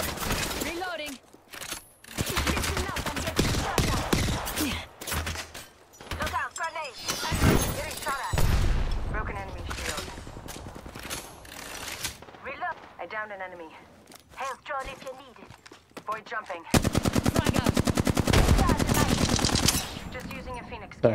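Bursts of rapid automatic gunfire and single shots ring out in a close firefight in the video game Apex Legends, with players talking and calling out over and between the shooting.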